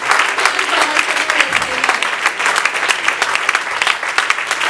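A church congregation claps loudly and continuously in praise during a worship service, a dense, rhythmic burst of applause filling the room with faint voices underneath.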